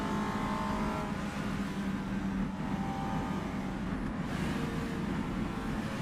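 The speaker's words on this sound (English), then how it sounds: "You can hear it's at the higher end of the rev range in this car as well" A race car in rFactor 2 on the Targa Sicilia course, its engine droning steadily near the top of its rev range, a continuous loud buzzing hum that dips briefly between shifts, with no voices.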